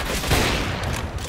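A no-scope sniper headshot in CS:GO lands as a single sharp gunshot amid dense, busy game noise.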